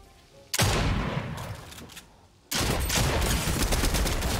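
Two bursts of heavy gunfire from a Fortnite match, the first cutting in sharply and tailing off, the second starting loud and sustained to the end, close and dense with no talking.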